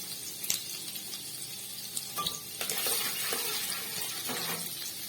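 Chopped garlic and ginger frying in white oil for chowmein, a close hiss of sizzling with a few scrapes and clinks of stirring in the pan.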